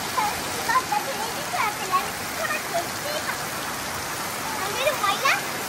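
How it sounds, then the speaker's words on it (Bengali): Heavy rain pours steadily around a home garden, a dense, even hiss of drops with scattered splashes throughout, continuous and fairly loud. "বৃষ্টিটা সেই রকম সুন্দর"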